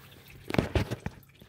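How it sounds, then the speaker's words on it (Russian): Engine oil is poured into the 2AR-FE engine of a Toyota RAV4, heard as faint, close gurgling and dripping splashes lasting about a second, with no talking. "Так, заливаем маслица."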